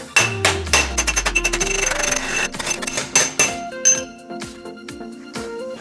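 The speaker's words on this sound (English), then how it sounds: "if we want to straighten these edges, we just pop it on this anvil" A handmade metal repair panel is hammered on an anvil with budget tools: a quick run of ringing, clinking blows, close and loud, followed by slower, spaced strikes.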